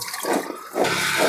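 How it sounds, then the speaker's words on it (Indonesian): Running tap water splashes over taro stems being washed in a kitchen, a continuous hissing gush with a brief dip partway through before the flow surges back steadily. "Harus menggunakan air mengalir,"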